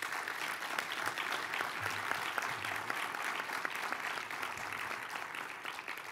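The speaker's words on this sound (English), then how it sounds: "So I think they deserve a round of applause." An audience at a public health panel event gives a round of applause: dense, even clapping that holds steady throughout with no speech over it.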